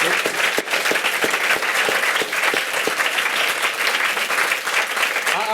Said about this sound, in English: we should give Richard Holloway a big round of applause